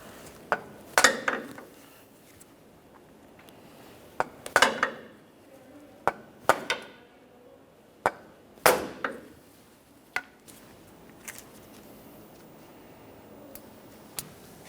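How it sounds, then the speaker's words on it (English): A hammer taps a pry bar against a tie rod bellows boot clamp on a Ford F-150, light metallic taps in short clusters, a few sharp strikes spaced out over several seconds, close by with quiet gaps between. "For this, I'm using a pry bar and a hammer, a couple light taps, should get it broken free."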